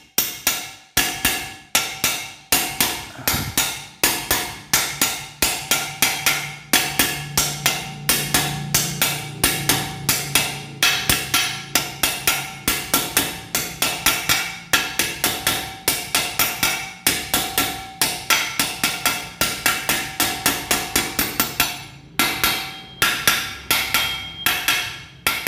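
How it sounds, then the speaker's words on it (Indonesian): A hammer tapping the edge of a motorcycle crankshaft part to seat it, a long run of sharp metallic strikes in a fairly even rhythm, each knock close and loud, with a few short pauses. "yang kita getok bagian pinggir ya"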